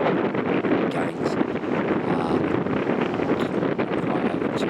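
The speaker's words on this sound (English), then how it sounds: "Might get a little windy out here, guys, because the tide's just gone out." Strong wind blows across the beach by the pier in Blackpool, buffeting the microphone with a continuous loud, rough roar and brief gusty flutters, with no talk.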